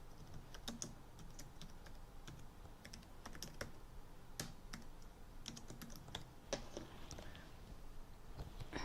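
Someone types on a computer keyboard, scattered irregular key taps and clicks close up but quiet, with a faint background hum and no talking.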